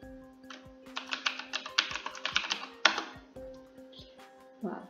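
Computer keyboard typing, a quick close burst of key clicks over about two seconds with a couple of heavier taps, then a pause and a final keystroke, over a low background hum.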